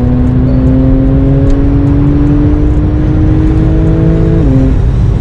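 A catless Techart-tuned Porsche 991.2 Turbo S with 580 hp accelerates hard. Its engine gives a loud, continuous roar with steady, slowly rising tones that dip briefly near the end, as if at a gear change.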